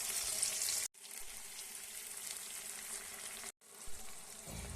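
Potatoes, peas and tomatoes fry with ginger paste, cumin and spices in a pan, a close steady sizzle with stirring, broken twice by brief silent cuts.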